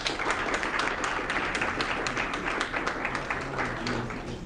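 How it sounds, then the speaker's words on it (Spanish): A conference audience in Guatemala applauds a former president, broadband clapping sustained and dense throughout, fairly even in level with no voices on top. "para quien pido un fuerte aplauso"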